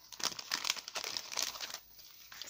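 Kraft paper packaging crinkles and rustles as it is opened by hand, with dense irregular crackles for about two seconds, close up and with no talk.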